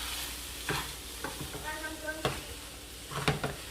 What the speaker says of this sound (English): And then now stir it.